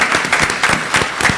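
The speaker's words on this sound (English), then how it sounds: "Can we give a hand clap to Matt Hall?" An audience at a San Diego 50th District and mayoral debate claps for Matt Hall, producing brief, dense applause from a crowd close by that holds steady without dying out.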